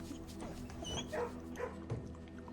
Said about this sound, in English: You can pet the dog in Blueprints